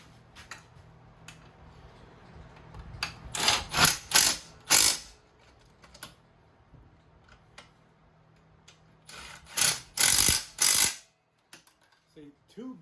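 An impact gun rattles hex bolts tight on a leaking pressure washer pump, firing in two short clusters of sharp mechanical bursts separated by quiet pauses, loud and close.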